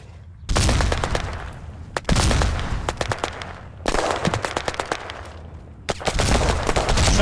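Gunfire in the shooter game Battlerush 2: rapid automatic bursts of shots in four long volleys separated by short pauses, loud and close, with dense rattling reports.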